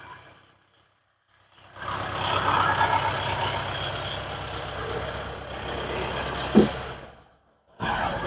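An Isuzu D-Max 2022 3.0 manual 4x4 pickup grinds through a muddy bog in first gear, its engine a steady, loud drone for several seconds before cutting off, with a brief knock midway.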